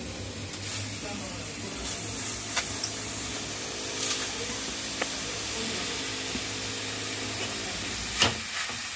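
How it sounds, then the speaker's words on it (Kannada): Grated ash gourd frying in a pan for pumpkin halwa, giving a steady, even sizzle and hiss close by, with a few faint scrapes and clinks over the continuous frying. "ಕುಂಬಳಕಾಯಿನ ಈಗ ಹುರಿಯಕ್ಕೆ ಪಾತ್ರೆ ಇಟ್ಕೊಂಡು ಎಲ್ಲ ಹಿಂಡಿ ಇಟ್ಕೊಂಡಿದ್ದೀನಿ."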